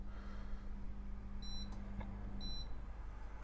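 Kitchen air fryer switched on to preheat, giving two short electronic beeps about a second apart over a steady low appliance hum.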